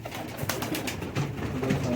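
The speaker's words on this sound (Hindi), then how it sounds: "ये चंदाखानी गजरे कबूतर है ये।" Chandakhani Gajre pigeons give soft, low cooing calls close by, with some rustling and brief clattering sounds around them in a loft setting.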